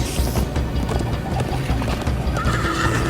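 Horse neighs and galloping hoofbeats in the Minecraft: Story Mode video game, rhythmic clip-clop under a whinny, loud and close with rushing background effects.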